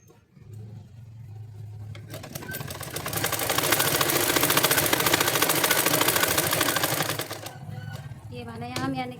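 A sewing machine runs steadily for several seconds, stitching over the crotch seam of a Punjabi-style Patiala salwar. It swells to a dense whir, then stops, and a voice follows at the end.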